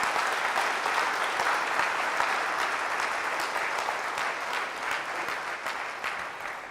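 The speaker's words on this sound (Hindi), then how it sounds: "जोरदार तालियों से खुदा के नाम को बोलो" A church congregation claps loudly and steadily at a healing service, dense applause holding throughout without voices on top.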